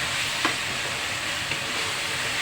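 Boiled eggs stirred and fried in masala for egg korma, a steady close sizzle with faint scraping of the spoon running throughout, no talking.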